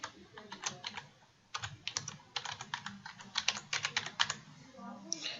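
Rapid bursts of computer keyboard typing, close and clear, in quick irregular runs of keystrokes with brief pauses between, while bibliographic details for a journal article are entered; no voices.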